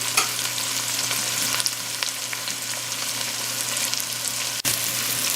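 Onions sweating gently in a pan for chipotle chili, a steady close sizzle with occasional stirring scrapes and one sharp bump near the end, no voices.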